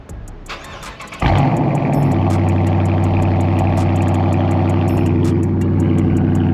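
A Dodge Charger with a 345 Hemi V8 cranks briefly, fires up with a sharp burst, then settles into a loud, steady, throbbing idle with rumbling exhaust that stays close and continuous, with no talking.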